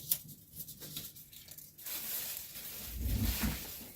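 Plastic garbage bag that has been cut apart rustles and crinkles as it is spread out flat, a soft close crackling that swells into a louder rumpling swish near the end.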